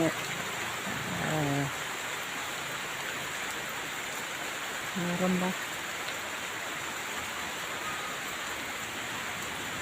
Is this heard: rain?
yes